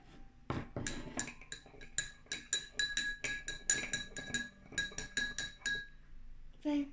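A metal spoon stirring salt into a glass of water, a fast run of bright clinks against the glass in an uneven rhythm, close and fairly soft, with brief speech in the background.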